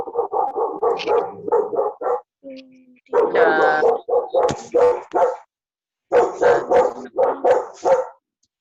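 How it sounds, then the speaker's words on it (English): A dog barks in repeated bursts of sharp, loud yaps, several in quick succession, then pauses before another run of barks; fairly close and prominent, with no talk over it. "This dog is barking."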